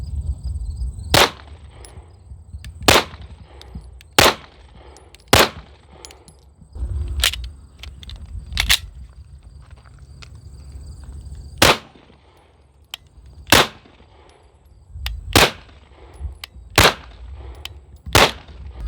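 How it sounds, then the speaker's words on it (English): Sharp, loud pistol shots from SIG X5 and Walther Q5 Match competition pistols at a range, a dozen or so reports spaced irregularly over a quiet background, with no talk. "All right, Kim, so you shot them both."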